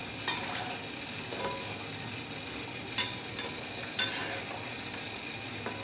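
Fuluri fritters made with dried shrimp frying in oil, a soft, steady sizzle punctuated by a few sharp utensil clicks and stirring scrapes at irregular intervals, heard close with no talking.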